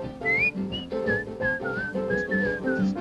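Someone whistles a bright, lilting melody, note after note in a steady flowing rhythm, close and clear with no talking.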